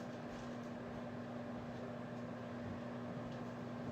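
A steady, continuous mechanical hum with a low electrical drone, like a microwave oven running, constant and unbroken with no voices.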